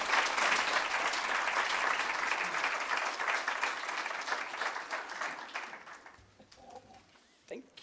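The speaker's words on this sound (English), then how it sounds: "I would like for everyone to give him a round of applause" An academic audience at an archaeology society's biennial meeting claps to welcome a keynote speaker; full, sustained applause that gradually thins and fades out, with a few scattered claps left at the end.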